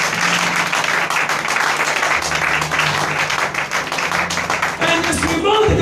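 A church congregation claps and cheers for Jesus in a dense, steady burst that fills the room for several seconds, with voices mixed into the applause.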